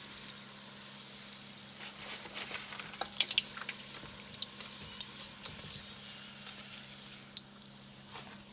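Egg rolls deep-frying in hot grease, a steady low sizzle and bubbling with occasional sharp pops and crackles scattered throughout, fairly quiet and close.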